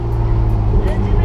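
A Ferrari 488 GTB drives past, a steady low engine rumble heard close by for just over a second, with faint voices in the background.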